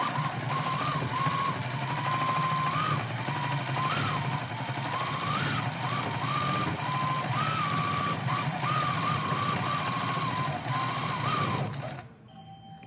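A sewing machine quilts on a compact Grace Cutie quilting frame with a stitch regulator, running loud and steady with a rapid mechanical chatter and a wavering whine, then stopping abruptly near the end.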